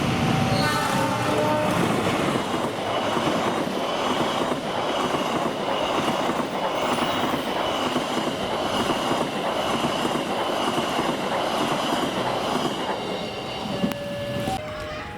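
A passenger train rolls steadily along the rails on Java, Indonesia, with a continuous loud rumble, rhythmic wheel clatter and brief high squeals near the end.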